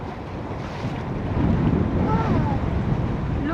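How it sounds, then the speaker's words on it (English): Ocean waves wash and rumble near a sailboat approaching a large reef off Isla Pino, mixed with heavy wind buffeting the microphone and swelling slightly louder midway, without any talking. "Look the waves."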